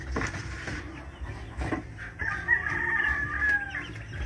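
Chickens in a farmyard, a hen with her chicks, clucking and calling at moderate distance, with a drawn-out rooster-like crow rising near the end over soft background noise.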